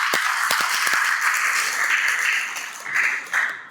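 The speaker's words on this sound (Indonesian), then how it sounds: "Tepuk tangan buat kalian semua." Audience applause at an investment outreach event on the campus of Institut Teknologi Kalimantan: a steady wash of many hands clapping that lasts about four seconds, with a few louder bursts near the end.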